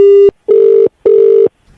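A telephone rings in loud, sustained electronic tones, three bursts separated by short silences, close and clear with no voices over it.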